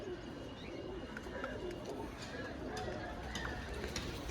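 Soft pigeon cooing repeats a few times under a steady murmur of background noise, fairly quiet and close by.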